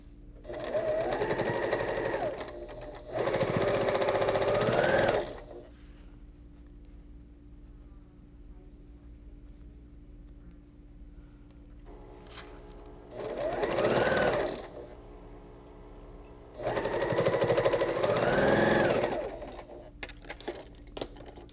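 A sewing machine stitches quilt block seams in bursts of steady, rapid whirring. Four runs of a few seconds each are separated by quiet pauses, and the machine sounds close and clear.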